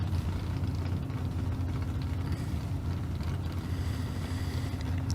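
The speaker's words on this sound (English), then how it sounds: "Panunzio over there on the right-hand side of the racetrack, the 1st gen Camaro out of Plain City, Utah." A first-generation Camaro drag racing down the track at a Las Vegas street car event, heard as a steady, loud, low engine roar blended with wind rush, continuous for the whole stretch with no talk.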